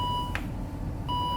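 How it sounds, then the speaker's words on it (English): A 2013 Volvo S60 AWD T5's electronics beep a steady tone on and off, pausing briefly mid-way before resuming, over a low rumbling background, during door latch actuator replacement. "sorry for the beeping"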